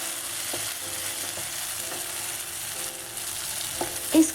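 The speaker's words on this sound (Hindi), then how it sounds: "और मीडियम हीट पर स्टर करते रहेंगे।" Tomatoes for a spicy tomato chutney fry over medium heat in a pan, a steady close sizzle under occasional soft scraping taps of a stirring spoon, with no talking.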